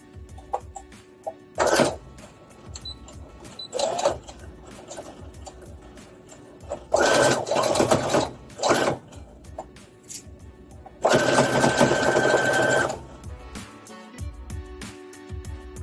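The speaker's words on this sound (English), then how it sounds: "let's go ahead and sew this down" A sewing machine stitches dress fabric in short bursts of motor whirring, several stop-start runs with quiet handling noises between them and one longer run near the end.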